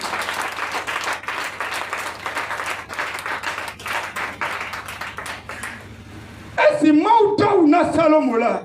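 A church congregation applauds loudly and steadily during a Friday evening sermon, sustained clapping for several seconds before a voice speaking with musical backing takes over near the end.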